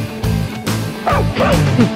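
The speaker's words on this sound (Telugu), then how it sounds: "బుజ్జిముండ కుందేలంత ఉంటది, తోడేలా అరుస్తుంది." A small dog barks loudly in quick repeated yips close by, with a few whimpering rising notes mixed in.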